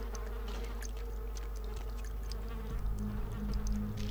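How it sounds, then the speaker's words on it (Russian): A dense cloud of flies hums without pause in Vampire The Masquerade - Bloodlines, with small clicks and a slight swell near the end, no voices over it. "Мух очень много."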